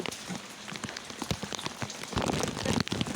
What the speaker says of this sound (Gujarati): અમારા ગામમાં જો આટલો બધો વરસાદ આવ્યો